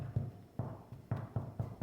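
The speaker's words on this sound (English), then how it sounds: "Give it a little tap on the bottom and it should sound like this." Knuckles tapping the underside of a freshly baked homemade rye loaf, giving about seven dull, hollow knocks in a quick uneven rhythm, close and fairly soft with no talking.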